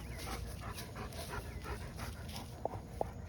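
A dog named Patrick pants rapidly and rhythmically while tearing up garden plants, close and fairly quiet, with a couple of short sharp knocks near the end.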